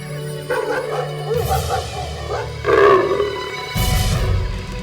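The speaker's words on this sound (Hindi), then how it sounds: "तो लेपर्ड की आवाज है।" A leopard calls in a wild area, a loud, rough roaring rasp repeated a few times in bursts, close and harsh, with no talking over it.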